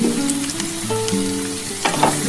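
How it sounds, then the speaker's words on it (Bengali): Drumstick pieces and potatoes fry in hot oil for a posto curry, giving a brief, steady sizzle with a light stir partway through. "ভালো করে ভাজা ভাজা করবো আগে।"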